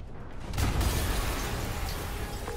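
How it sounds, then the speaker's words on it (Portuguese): A sudden deep boom bursts out after a brief quiet moment, followed by a sustained rumbling roar that slowly fades, an explosion in the game Spider-Man on PS4. "Yuri, uma explosão."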